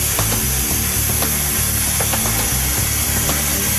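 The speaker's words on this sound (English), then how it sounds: "The pilot arc transfers to the workpiece and becomes the cutting arc." A Hypertherm Powermax plasma torch cuts a metal workpiece, producing a loud, steady, close hiss with a rough buzzing hum and faint crackles throughout, no talking.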